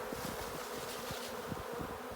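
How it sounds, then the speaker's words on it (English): A dense, steady hum of many bees from a swarm being shaken into a Kenyan top bar hive, buzzing all around, continuous and fairly close, with no voices. "Bees everywhere."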